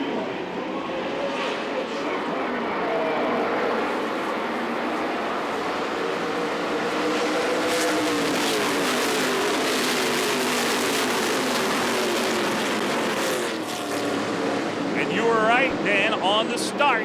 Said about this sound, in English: we're getting ready to go green flag racing here at the Iowa Speedway